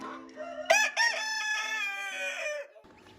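A rooster crows loudly and close by with a long strained call, with chickens clucking around it on a homestead.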